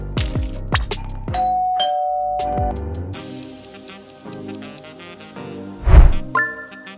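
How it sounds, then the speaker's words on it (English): A doorbell rings several times with clear chiming tones over a busy background of other short everyday noises, including a louder thump near the end. "It's doorbell ringing."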